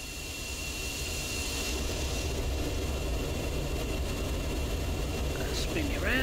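A simulated military jet engine in the DCS World flight simulator drones steadily at moderate volume during an engine shutdown, with a faint rising whine near the end.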